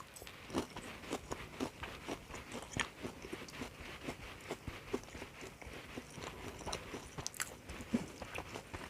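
Someone biting and chewing a homemade cabbage pancake, close up: soft, irregular crunches and mouth sounds spread over several seconds with no talking.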